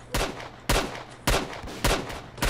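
A gun fires in S.T.A.L.K.E.R. Clear Sky: five loud, sharp shots in a steady, evenly spaced rhythm, each with a short ringing tail, with no talk over them.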